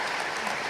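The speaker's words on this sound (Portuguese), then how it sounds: "Você pode aplaudir mais uma vez o Senhor?" Church congregation applauding during a couples' retreat, a soft, steady wash of clapping heard from a distance for a brief moment, with no voices.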